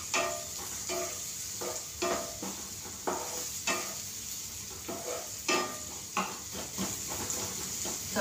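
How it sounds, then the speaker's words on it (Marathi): Pav bhaji vegetables being sautéed in hot oil, a soft sizzle broken by repeated scraping and stirring strokes of a spoon against the pan in an uneven rhythm, close and fairly quiet, with no voices. "तिला आता मी चांगली तेलामध्ये चांगली परतून घेते"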